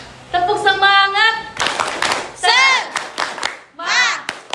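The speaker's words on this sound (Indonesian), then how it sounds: "Oke, tepuk tangan." Junior high classroom students clap their hands in short, loud bursts between sung or chanted voices, with the group's voices dominating much of the time.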